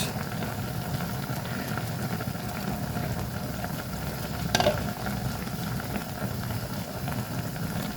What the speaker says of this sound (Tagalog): lakas na ng kulo niya guys